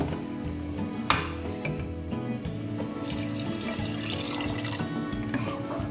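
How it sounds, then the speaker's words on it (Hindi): Water pours into a pot of pasanday (meat slices) in a kitchen, starting with a splash and then a steady, close stream running for several seconds. "अब हम इसमें डाल देंगे पानी।"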